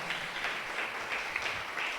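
A church congregation claps together in a soft, even wash of applause that runs the whole stretch without a break, heard at a distance and fairly faint.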